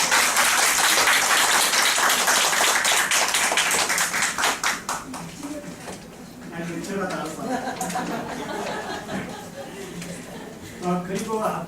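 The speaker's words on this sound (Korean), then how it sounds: "다시 한번 큰 박수" Audience clapping after a four-hour lecture at a university special session on teaching methods, loud and dense at first, then thinning out as a voice talks over the fading applause.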